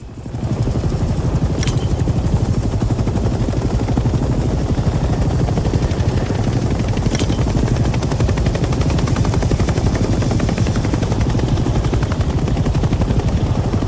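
A helicopter flies in the Vietnam-era shooter Hell Let Loose Vietnam, its loud, steady rotor and engine roar continuous throughout, with two brief sharp high accents near the start and middle.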